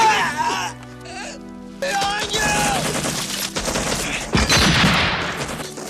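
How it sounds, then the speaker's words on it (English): Gunfire bursts and explosions tear through a village in a war scene, with rapid shots and heavy booms mixed with voices and cries, loud and close. "The sudden burst of gunfire, the deafening explosions tearing through the village."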